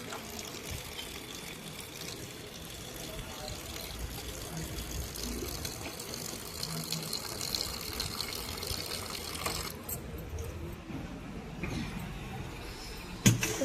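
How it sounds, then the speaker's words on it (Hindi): Potatoes that soaked overnight are being washed in a home kitchen, giving continuous sloshing and running water, fairly quiet and steady throughout with no talk. "पर फिर भी यार धोनी पड़ती है क्योंकि पूरी रात पानी में रही है ये आलू"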